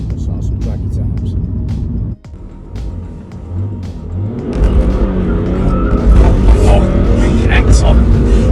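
Remapped BMW E46 330d diesel with 250,000 miles accelerating hard from a standstill toward 60 mph, a steady engine drone with a brief dip at a gear change, then a louder, rising pull with road and tyre noise. Voices talk inside the car.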